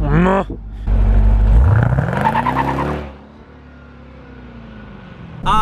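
A Jeep Grand Cherokee Trackhawk's 6.2L V8 starts up loud and close, rises in a hard rev and then drops back to a low, steady idle rumble, with a brief bark at the end.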